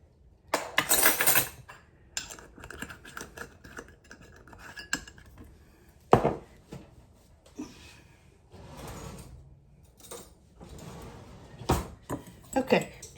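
Spice rub with sweet paprika being mixed in a bowl, scattered clinks and scrapes of a utensil against the bowl coming in uneven bursts, with quiet talk in between.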